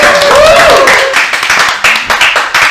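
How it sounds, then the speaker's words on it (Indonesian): A small group in a podcast studio claps to welcome two guests from Toraja. A voice speaks briefly at first, then quick, close, uneven bursts of hand claps follow. "Woi, tepuk tangan"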